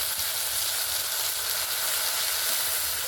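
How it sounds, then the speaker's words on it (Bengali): Ground coriander and cumin cooking in a pan with a splash of water added, giving a steady, close, continuous sizzle and hiss throughout, with no talking. "এবারে এতে সামান্য একটু জল দিয়ে দেবো, যাতে মশলাটা পুড়ে না যায়।"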